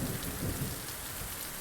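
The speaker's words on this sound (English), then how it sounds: "Check out the rain." Steady rain with rumbling thunder in the video game Fatal Frame III, a dense, continuous wash with low rolling rumbles early on, heard alone.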